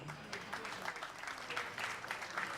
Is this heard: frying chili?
no